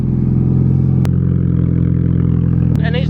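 A naturally aspirated car engine revs up and holds a steady mid-range drone, with brief clatters and a voice speaking over it near the end.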